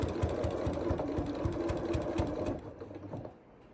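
A sewing machine stitches fabric scraps in a steady, close rhythmic whir with rapid needle thumps, then slows and quiets near the end.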